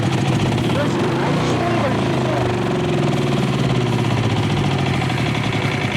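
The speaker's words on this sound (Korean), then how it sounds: "자, 엔진 스타트 버튼을 누르면" Portable generator engine running steadily and loudly, a continuous dense mechanical drone close by, while someone talks over it.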